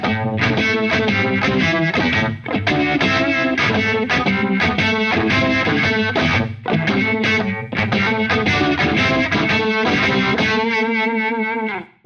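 An electric guitar plays a blues line through an Eventide Riptide pedal with overdrive and Uni-Vibe, loud and continuous with swirling, driven chords and notes, ending on a ringing sustained chord.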